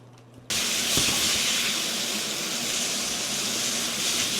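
A kitchen torch lit to char a lemon, starting abruptly and then holding a loud steady roaring hiss at close range that barely changes, with no talking.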